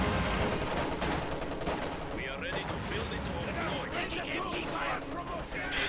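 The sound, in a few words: Maxim machine gun fire in a video game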